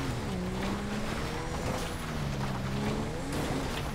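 A car engine in the video game GTA 5 drones and revs as it accelerates, a continuous mid-level motor hum with shifting pitch and gear changes, steady and fairly near.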